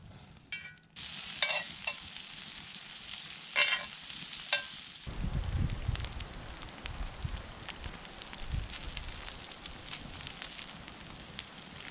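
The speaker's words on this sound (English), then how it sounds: "the ribs are still cooking over here" Ribs cooking over an open campfire while winter camping, giving a steady crackle and sizzle, first with a few sharp clinks and taps, then a denser, lower rumbling fire that carries on throughout with no voices.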